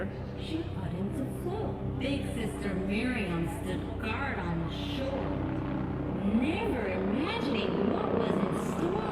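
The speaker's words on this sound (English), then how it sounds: "That's the helicopter?" Helicopter hovering over a nighttime protest encampment at UCLA, a steady throbbing rotor drone that runs throughout beneath a person reading a story aloud and nearby crowd chatter.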